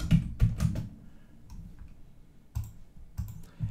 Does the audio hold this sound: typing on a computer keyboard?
yes